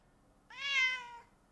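A cat gives a single clear meow of about three-quarters of a second. The call rises and then falls, and it sits close and alone against a quiet room.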